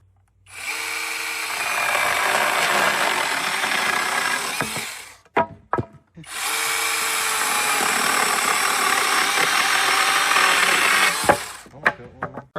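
A Range Road edger at a sawmill trims boards in two long, loud, whining cuts of several seconds each. Short gaps of clunks and knocks separate them as the wood is handled, all heard close by.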